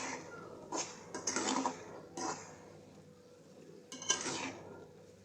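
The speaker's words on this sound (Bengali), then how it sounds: "এখন আমি এগুলোকে আমের সাথে মিশিয়ে নেব।" Chopped green mango being mixed with chili and turmeric powder in a bowl, giving a few short scraping and clinking bursts of utensil against dish, close and fairly quiet, with pauses between them.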